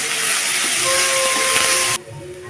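Chopped onions frying in hot oil, a loud steady hiss that runs unbroken, with faint tonal hums over it, then abruptly drops to a much quieter simmer near the end.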